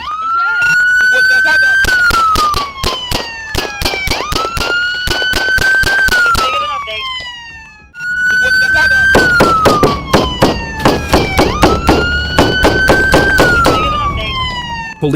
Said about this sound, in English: Then gunfire erupted.